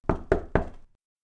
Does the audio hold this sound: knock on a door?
yes